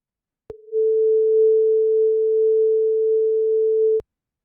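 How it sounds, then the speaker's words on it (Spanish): A steady 440 Hz sine tone generated in Matlab sounds alone for about three and a half seconds, loud and unwavering, starting and stopping with faint clicks. "solo se ha escuchado la frecuencia de 440, el armónico principal"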